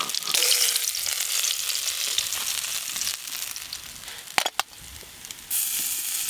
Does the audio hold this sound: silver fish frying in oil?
yes